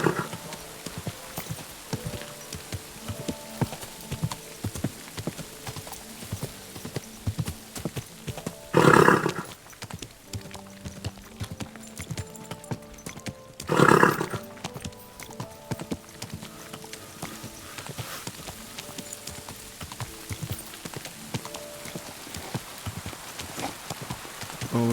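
Horse hooves clip-clop steadily in Kingdom Come: Deliverance 2, a rhythmic, moderately loud walking gait with two brief louder bursts of other noise partway through.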